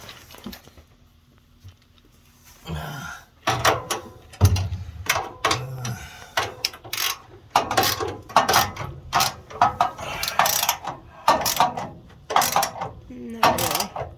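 Screws being tightened on a furnace blower motor produce repeated ratcheting and clicking bursts in irregular runs, close and fairly loud, with a person talking in between.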